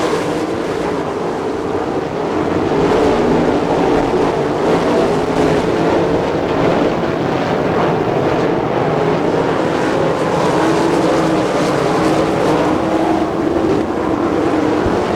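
Sprint cars race around the Attica, Ohio dirt track at the Coors Spring Nationals, a loud, steady roar of engines blending into a continuous drone with no break.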